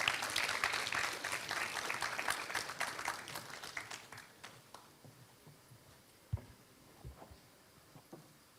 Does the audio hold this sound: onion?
no